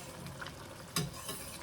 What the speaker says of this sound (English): It has started boiling.